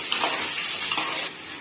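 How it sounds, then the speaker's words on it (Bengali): Capsicum, onion and tomato are stirred in a hot frying pan, a steady close sizzle with scraping strokes of the spatula running throughout, and no one speaking. "দিয়ে এটাকে ভালো করে নেড়ে চেড়ে নিতে হবে"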